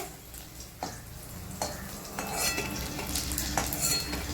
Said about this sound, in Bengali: বন্ধুরা আলুগুলোকে এখন ভেজে নিচ্ছে